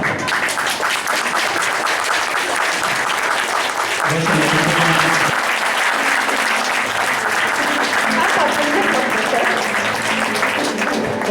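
Sustained audience applause fills the space at a horse imprinting demonstration, dense and steady throughout, with a few voices briefly audible beneath the clapping.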